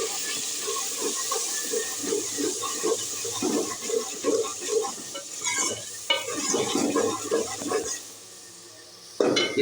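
Potatoes with chillies and a spoonful of salt are stirred in a sizzling pan, making repeated close scraping strokes in a steady rhythm over the hiss of frying.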